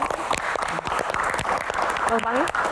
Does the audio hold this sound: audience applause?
yes